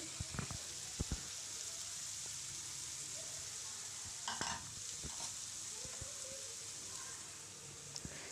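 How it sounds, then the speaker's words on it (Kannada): Boiled sprouted moong and beans stirred into onions frying in a pan, steady sizzle with scraping spoon strokes and a few sharp clinks, no talking. "ಈಗ ಹೆಸರುಕಾಳು ಮತ್ತು ಬೀನ್ಸ್ನ ಬೇಯಿಸಿಟ್ಕೊಂಡಿರೋದನ್ನು ಇದ್ರ ಜೊತೆಗೇ ಸೇರಿಸ್ಕೊತಾ ಇದ್ದೀನಿ"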